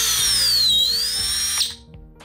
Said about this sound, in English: And then if I flip this switch, now it's spinning the other way.